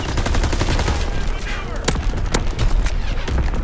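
An artillery strike killstreak in Call of Duty WW2 multiplayer hardpoint gameplay: a steady rumble of distant gunfire and explosions with sharp blasts cutting through, loud and continuous throughout.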